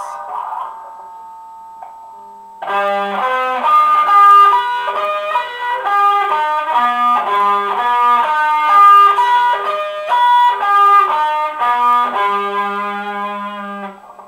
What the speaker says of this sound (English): the second arpeggio shape will sound something like this